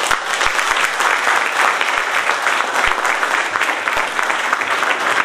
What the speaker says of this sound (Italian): se volete, un applauso a loro